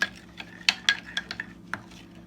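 A utensil clinks and scrapes against a bowl while pork chop seasoning is stirred and mixed, a string of bright irregular taps over low background hum, close and fairly quiet, with no talking.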